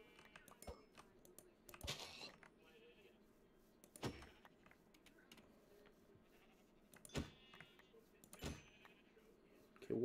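Sheep bleating in the Minecraft video game, several short bleats popping up at irregular intervals over a quiet background with faint clicking.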